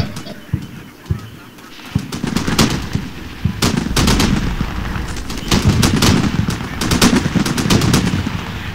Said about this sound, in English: Notice the 2 heavy machine guns on the right flank.